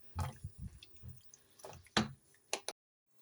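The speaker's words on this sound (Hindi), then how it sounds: "1 कप मैंने पानी डाल दिया है" Water poured into a cooking pot while making chicken korma, in short splashy bursts and drips spread over about three seconds, close and fairly soft, ending in silence.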